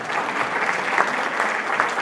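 A synagogue congregation claps steadily and densely for about two seconds, a close, even roar of many hands with no voices over it.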